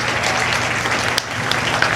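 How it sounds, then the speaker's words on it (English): Steady applause from spectators at a county feeder calf and steer show, a broad wash of clapping in an arena, continuous and fairly loud. "Give her and the rest of them a nice round of applause here"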